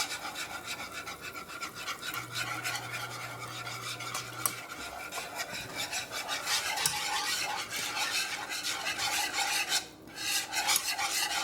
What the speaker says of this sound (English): And then you're gonna whisk it into the roux.